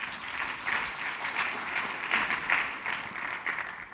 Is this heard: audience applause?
yes